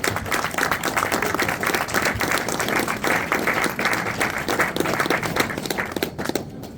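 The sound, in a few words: audience applause for Kevin Toms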